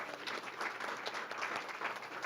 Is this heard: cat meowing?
no